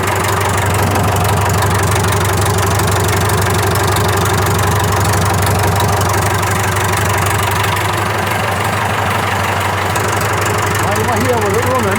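A David Brown 990 tractor engine running steadily nearby, a loud continuous low diesel rumble with a knocking idle rhythm that holds even throughout.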